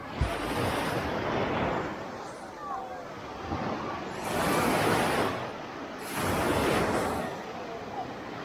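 Sea waves roll onto a beach with a stony entrance giving way to sand, a steady surf roar swelling in repeated surges with wind noise over the microphone.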